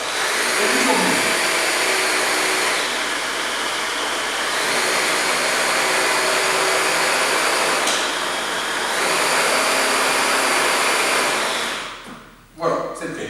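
A small electric motor whirs loud and steady for about twelve seconds while edible glue is mixed for homemade dog treats, then cuts off abruptly near the end.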